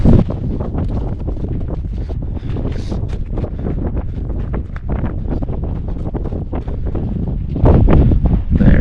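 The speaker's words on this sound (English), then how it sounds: "It's a little bit windy up here." Strong wind buffeting the microphone, a constant loud rumble with gusts that swell and ease, and no one talking.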